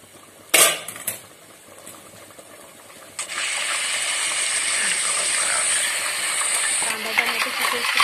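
Chicken curry is stirred in a pan, a steady sizzling hiss with scraping spoon strokes against the metal, close and fairly loud, with no voices.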